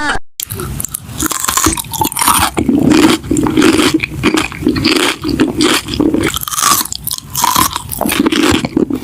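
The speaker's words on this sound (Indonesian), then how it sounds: "yang kriuk-kriuk aku lagi makan keripik" Crunchy keripik chips being eaten up close, a loud continuous run of crisp bites and chewing crunches with no pause.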